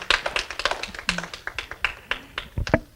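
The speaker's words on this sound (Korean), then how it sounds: "다시 한번 저기 우리 큰 문 목사님 위해서 큰 박수를 한번 보내드리겠습니다" Scattered hand claps from a church congregation applauding a pastor, a loose sparse patter of individual claps rather than a full ovation, moderately close with no talk.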